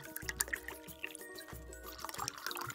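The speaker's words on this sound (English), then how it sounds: "you will need to fill your glass bottle about a third of the way full with water" Water trickles and pours into a glass bottle until it is about a third full, with a steady close-up stream and small gurgling splashes, quiet and without voices.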